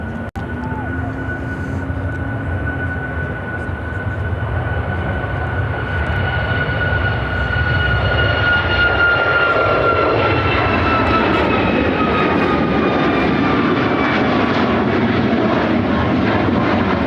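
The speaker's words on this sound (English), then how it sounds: "This is American Airlines 1511 taking off to Miami on the MAX 8." An American Airlines Boeing 737 MAX 8 jet takes off at Chicago O'Hare, bound for Miami, its engine roar building steadily to a loud, sustained rumble with rising whining tones.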